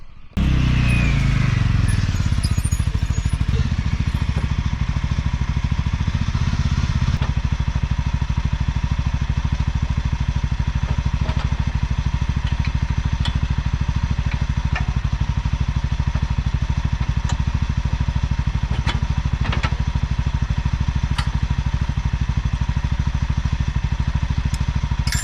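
A Polaris Ranger-style UForce 600 side-by-side engine idles steadily up close, a loud continuous low rumble with faint clatter and occasional ticks throughout, no talk.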